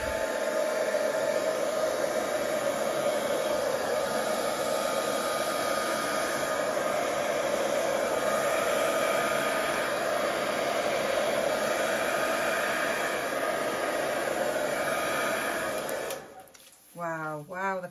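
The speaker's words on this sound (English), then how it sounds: "I'm going to use the hairdryer." A hair dryer blows acrylic paint across a small canvas in a steady, loud, continuous whoosh that runs for most of the clip before cutting off near the end.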